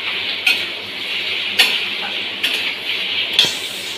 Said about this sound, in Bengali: এখানে কুমড়ো ভাজছি।